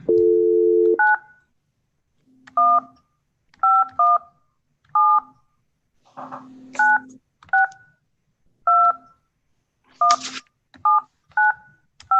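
Telephone keypad tones beep one at a time in an uneven sequence, each clear and close, with occasional dial tone and faint background voice between presses.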